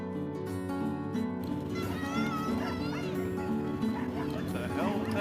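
Dogs bark and yip while chasing a motorcycle on a north shore road in the Dominican Republic, their calls partly masked by engine drone and people talking.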